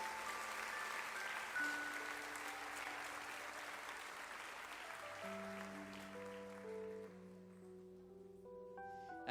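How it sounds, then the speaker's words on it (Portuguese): A church congregation claps loudly and steadily, the applause slowly thinning and fading as sustained keyboard chords take over underneath. "Dê um aplauso bem forte ao Rei dos Reis."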